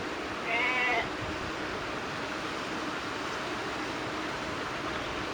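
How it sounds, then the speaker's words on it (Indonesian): A single short goat bleat rises early in a coastal village on Java's north coast, faint against a constant hiss of wind and open-air noise, then only background remains. "ternak kambing"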